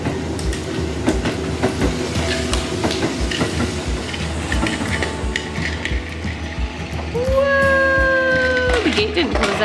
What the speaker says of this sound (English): Thomas is shunting Birdie